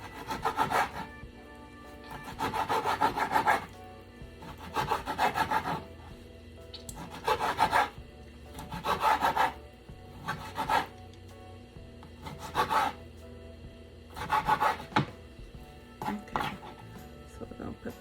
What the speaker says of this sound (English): We're gonna use the yellow bell peppers, the red, and the green. So just slice it up.